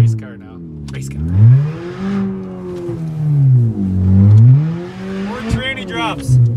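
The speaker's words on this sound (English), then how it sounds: "This thing sounds way better without the muffler. Sounds like a race car now." A Pontiac engine running straight pipes with no muffler revs up and down in loud, raspy swells, rising and falling several times close by.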